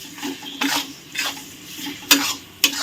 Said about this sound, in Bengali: হালকা একটু কষে নেব।